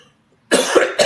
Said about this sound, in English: now I'm gonna cough through the whole show